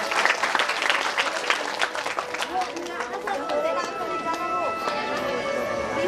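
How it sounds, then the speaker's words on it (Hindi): Applause from a large gathering at a Bhagavat Katha religious discourse welcomes mothers, a dense broadband clatter of clapping that stays fairly steady throughout with voices and a crowd murmur mixed in. "तालियों से हमारे माताएं का स्वागत"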